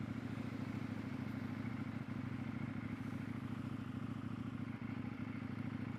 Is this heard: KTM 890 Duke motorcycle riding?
yes